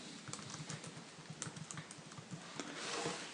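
Quiet typing on a computer keyboard while entering data into a spreadsheet, a close run of soft, irregular key clicks with brief pauses between bursts.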